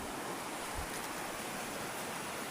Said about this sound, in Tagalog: Ayan, ganda ng ilog oh, linis.